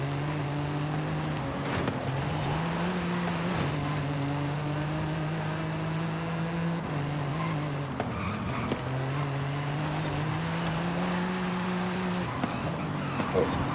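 Toyota Camry TRD widebody with front-wheel drive pushed hard through corners, engine note rising and falling repeatedly as it revs between shifts, loud and continuous, with a voice talking over it.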